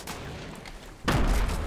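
Grenade explosions in a Fortnite match: a low, muffled rumble gives way to a sudden loud, broadband blast about a second in, followed by a sustained roar of further detonations and gunfire-like crackle.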